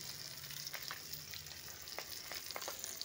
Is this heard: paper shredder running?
no